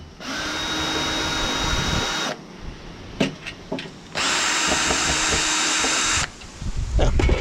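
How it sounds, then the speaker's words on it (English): A cordless drill backs screws out of a travel trailer panel in two long whirring runs, each about two seconds, separated by clicks, handling clatter and short bursts, close and loud. "Use my handy dandy cordless drill here."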